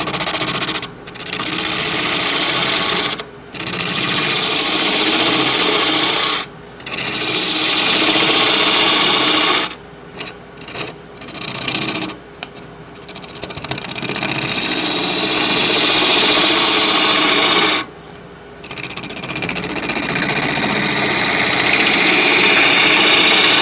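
Wood lathe turning a tic tac toe box, with a steady motor hum and gouge scraping in long runs broken by several short pauses, close and fairly loud.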